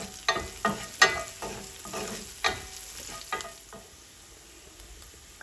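Garlic and curry leaves sautéing in hot oil in a pan with turmeric powder, a soft sizzle broken by several sharp scraping strokes of a spoon early on that thin out into quieter frying, heard up close with no voices.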